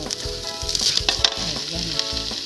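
Ground pork sizzles and crackles in a hot pan for Filipino-style spaghetti sauce, with a bright steady hiss and occasional utensil scrapes and clinks close by.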